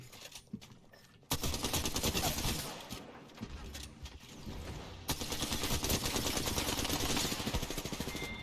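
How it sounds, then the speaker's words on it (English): Gunfire aimed at the player in a video game shooter, dense rapid automatic bursts that grow loud and sustained after an opening of scattered shots. "I'm taking fire."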